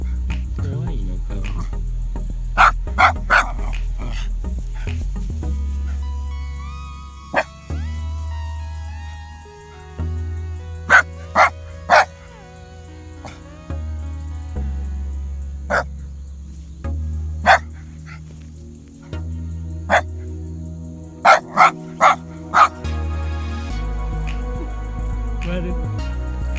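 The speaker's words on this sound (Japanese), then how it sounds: "バケツに向かって吠えてます。" A Shiba dog barks at a bucket left behind after a typhoon, giving sharp, loud single barks and quick clusters of two or three, separated by pauses, over steady outdoor background noise, with a person talking between barks.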